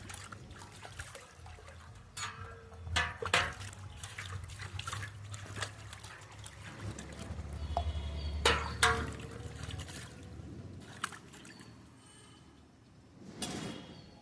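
Water splashes and trickles as steel dishes are rinsed with plain water, with intermittent clinks and scrapes of utensils and a low steady hum underneath.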